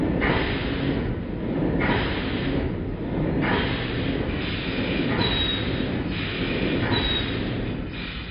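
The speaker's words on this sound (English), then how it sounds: "The squeaking noise you just heard only occurred when I dropped the pressure." A 7¼ inch gauge steam locomotive running at low steam pressure, giving rhythmic chuffing pulses with a faint high squeak repeating in time with the motion, close up and without speech.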